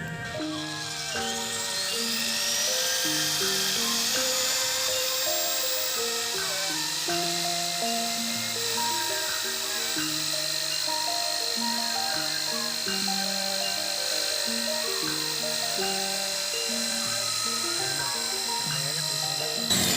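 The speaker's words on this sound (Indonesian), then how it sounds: "Oke, udah dibor." A steady, high-pitched power drill whine runs continuously and loudly throughout, with tonal music playing underneath.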